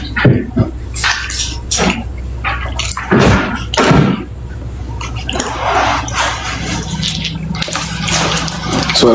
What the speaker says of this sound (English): I get some water there.